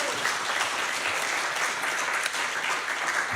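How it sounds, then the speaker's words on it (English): A congregation at a Sunday morning church service claps in welcome, producing dense, continuous applause at moderate volume that holds steady throughout without speech over it. "Expected a little round of applause there"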